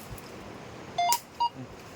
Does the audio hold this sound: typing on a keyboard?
no